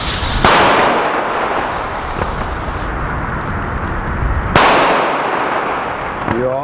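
A German Big Booster 2 firecracker bursts outdoors. There are two loud, sharp blasts a few seconds apart, each followed by a long, crackling, hissing decay.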